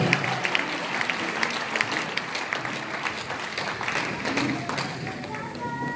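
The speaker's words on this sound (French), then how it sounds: "Acclamons très fort le Seigneur." A church congregation applauds loudly and steadily, dense overlapping clapping from a large crowd, with some voices mixed in.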